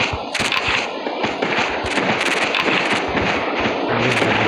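Sniper rifle gunfire rings out in the Carnivores Dinosaur Hunter video game, a rapid run of sharp, cracking shots and bursts over a noisy background, with no voices.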